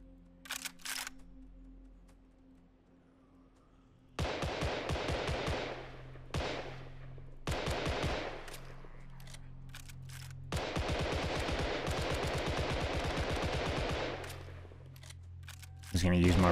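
Rapid bursts of gunfire in the Last Whisper video game during a fight with a hive boss, loud machine-gun-like volleys broken by short pauses, with someone talking over parts of it.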